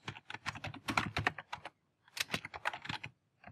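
Rapid bursts of keystrokes on a computer keyboard while entering expression code, two quick runs of clicking taps separated by a brief pause, close and clear with no speech.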